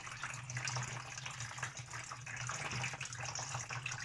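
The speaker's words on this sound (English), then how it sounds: "the water drains pretty fast through the bucket anyway because the holes at the bottom are big enough for that" Water gushing and draining steadily through the large bottom holes of a bucket of worms, a continuous close splashing rush with no voices.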